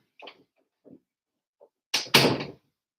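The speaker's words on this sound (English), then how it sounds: "Can you close my door?" A door swings shut with two quick loud thuds close by, the second heavier than the first, after a few faint sounds in an otherwise quiet room.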